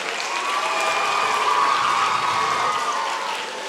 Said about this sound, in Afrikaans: Kom ons gee vir hulle lekker hande klap.